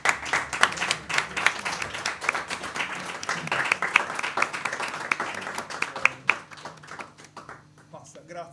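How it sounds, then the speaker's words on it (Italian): An audience at a live music set claps in a lively burst of applause with distinct individual hand claps standing out, then thins and fades toward the end as a voice speaks briefly. "vorremmo noi fare un applauso a..."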